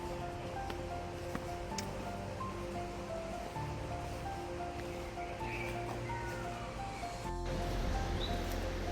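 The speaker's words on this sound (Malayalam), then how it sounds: "നല്ല പുഴയുടെ നല്ല ശബ്ദവും കിളികളുടെ ശബ്ദങ്ങളൊക്കെ ആയിട്ടൊരു വാക്ക് വേ ആണ്" Steady water rush from a river beside a walkway in Glasgow, a continuous broadband flow with faint bird calls scattered over it and no talk.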